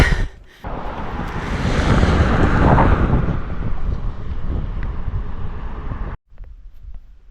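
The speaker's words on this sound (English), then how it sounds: "it's pretty windy" Loud, continuous wind buffeting the microphone, a heavy rumbling roar that swells and eases before cutting out near the end. No talking.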